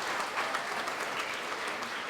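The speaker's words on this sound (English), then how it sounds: "Can we have a big round of applause for him?" A crowd applauds steadily throughout at a school prefect induction ceremony in Fiji, welcoming the newly named head boy. The clapping is dense and even, with no talk.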